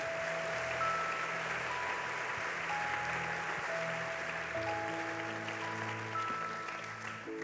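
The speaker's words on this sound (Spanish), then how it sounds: "Denle ese aplauso a Jesús." Church congregation applauding steadily and loudly for about seven seconds, a dense wash of clapping with sustained music tones running underneath.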